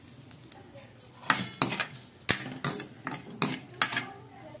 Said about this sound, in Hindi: घी में हमने ड्राई फ्रूट डाल देंगे सारे और इसको रोस्ट कर लेंगे